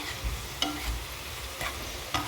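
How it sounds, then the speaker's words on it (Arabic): Semolina dampened with orange blossom water is worked and rubbed by hand in a bowl, giving soft granular rustling with a few faint scraping strokes, close and quiet, with no talking. "ثم تخلطي بيديك."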